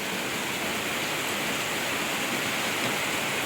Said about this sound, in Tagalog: Ang lakas po ng ulan mga kapiks.